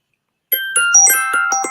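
A bright electronic bell chime rings out suddenly and loudly, with a quick run of ringing tones after a moment of silence.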